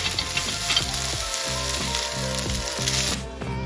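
Bite-sized sausage pieces browning in a frying pan, with a loud, steady sizzle and crackle of fat running throughout and occasional scraping as the pieces are stirred.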